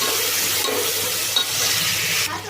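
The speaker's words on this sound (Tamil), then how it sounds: "தக்காளியை போட்டு நல்லா வழியாக வர வரைக்கும் நம்ம வந்து வதக்கணும்" Tomatoes sautéing in a hot pan for a brinjal dish give a steady, close, dense sizzle with a soft scrape of stirring partway through.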